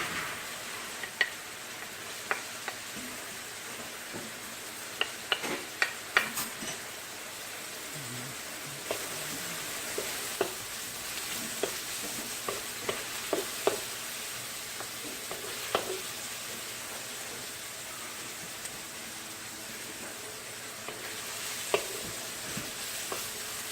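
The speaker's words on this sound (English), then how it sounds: "Cook this onion and garlic down" Onion and garlic cook down in a large pan with a quiet, steady sizzle, broken by scattered clicks and taps of stirring.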